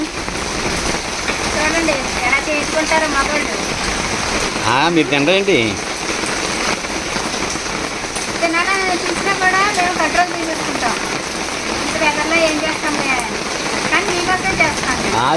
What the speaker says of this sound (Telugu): మంచి వర్షం పడతా ఉంది చూసారా